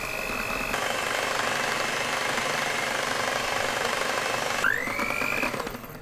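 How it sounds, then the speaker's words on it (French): A handheld electric mixer whips cocoa chantilly cream with mascarpone right in the pot, a steady close motor whine with a pitch shift near the end, no talking. "Un batteur électrique. Et je viens faire monter ma chantilly au cacao directement dans le pot."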